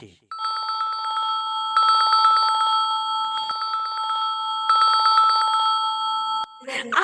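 A landline telephone rings in steady electronic trills, two long bursts of rapid repeated tones with a brief pause between, loud and close, with no talking over it.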